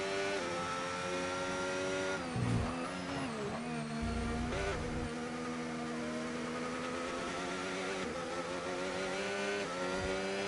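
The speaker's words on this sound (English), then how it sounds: "You can hear the feathering of the throttle right now from Jay Story" Race car engine in a racing video game broadcast, buzzing high-revving whine with rapid throttle feathering that makes the pitch waver up and down continuously, steady and fairly loud.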